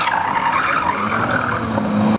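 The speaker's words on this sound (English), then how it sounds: "the wheel skidding," Car tires skid and squeal loudly under a roaring engine, one continuous screech lasting a couple of seconds, close and with no speech.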